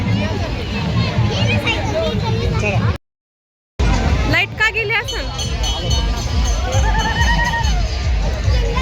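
A crowd mills at a Ram Navami village fair in Shirdi, with loud overlapping voices and children's chatter close by. The noise breaks off for a brief silent gap, and a high whinny-like call cuts through at times.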